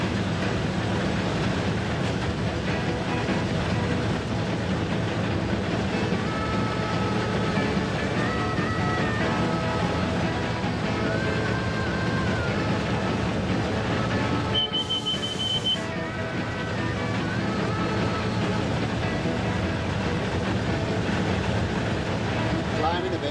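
A Class 47 diesel locomotive grinds uphill with a heavy train, seen from the cab: a steady, loud engine drone with rail rumble throughout and a brief high whine midway. No talk is evident.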